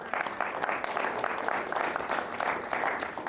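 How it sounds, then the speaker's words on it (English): Podcast studio audience applauding, dense even clapping that holds steady and fairly loud throughout with no voices over it. "Give those guys a round of applause"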